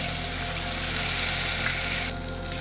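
Ginger spice paste dropped into hot oil for a vegetarian potol pasanda fries with a loud, steady, close sizzle that holds for about two seconds, then drops to a quieter hiss.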